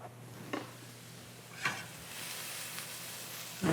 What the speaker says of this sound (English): we've got some nice toasting on our onions and garlic